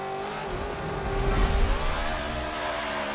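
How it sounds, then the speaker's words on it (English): A Hoonigan Bel Air drag car in the Forza Motorsport 7 racing game revs on a quarter-mile strip, the engine swelling to a louder rising roar midway and then settling into a steady high drone, with no voices over it. "Great sounding engine."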